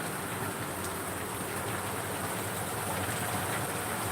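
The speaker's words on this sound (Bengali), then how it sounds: "প্রচুর বৃষ্টি আর আমার ডন দেখুন ভিজছে" Heavy rain pours down steadily, a dense, continuous hiss of drops on surfaces, even and unbroken throughout.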